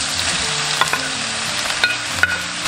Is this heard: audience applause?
no